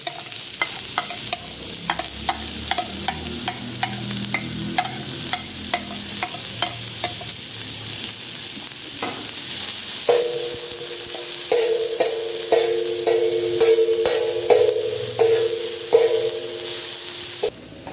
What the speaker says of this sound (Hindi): थोड़ा सा हम इसमें कुकिंग ऑयल ले लेंगे। एक हमने मीडियम साइज का प्याज ले लिया, इसको बारीक चॉप कर लिया, ये इसमें डाल देंगे।